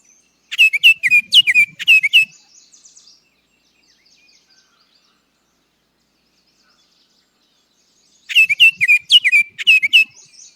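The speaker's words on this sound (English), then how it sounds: "For Baltimore Orioles, they do have a whistling tone as well too." Two bursts of clear, whistled Baltimore oriole song, a quick series of rich fluting notes, then silence before the phrase repeats near the end.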